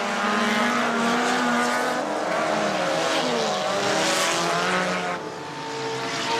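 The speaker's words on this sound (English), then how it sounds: "And they're away. And they're racing." Hot-rod cars race on a track in Dungarvan, their engines roaring loudly and steadily with rising and falling pitch as the cars pass close by and sweep around, and no talk is heard.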